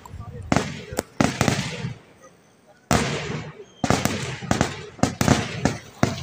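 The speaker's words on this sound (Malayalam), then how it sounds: "ഈ കാണുന്ന വെടിക്കെട്ട് വല്ലങ്ങി ദേശം പുലർച്ചെ" Early-morning fireworks burst at the Vallangi side of the Nemmara Vela festival in Kerala. Sharp, loud cracks and booms come in dense volleys, with a short lull before a fresh round and crowd noise underneath.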